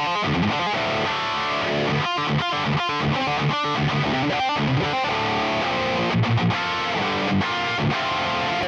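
Distorted electric guitar run through a software plugin chain of noise gate, drive, amp, cabinet and reverb, playing a dense riff with chugging chords and short rhythmic stops, loud and steady throughout with no voices.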